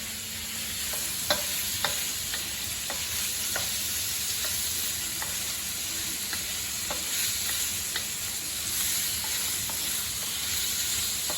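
Prawns fry in a hot pan with a steady, close sizzling hiss, broken by scattered sharp pops and crackles throughout; no one talks.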